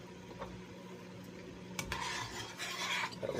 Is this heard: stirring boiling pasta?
yes